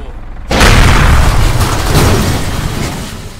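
Cartoon explosion in a Cyanide & Happiness animated short: silence, then a sudden loud booming blast at about half a second that roars on as a dense, slowly fading rumble for the remaining three seconds.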